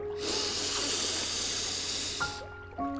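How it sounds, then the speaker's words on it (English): A long, steady breath drawn in for a guided meditation, a broad airy hiss lasting over two seconds, close and fairly loud, then fading to near silence with a couple of faint tones at the end. "I want you to start with a deep breath. Inhale"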